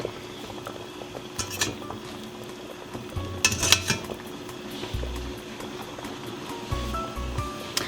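Khinkali meat dumplings dropped one by one from a spoon into a pot of boiling water, with metal clinks of spoon on pot and soft splashes over a low bubbling.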